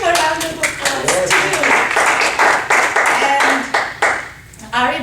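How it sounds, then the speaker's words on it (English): Audience at a Toastmasters meeting breaks into sustained clapping, dense and close, dipping briefly near the end before a last burst of hands. "So let's give him a round of applause"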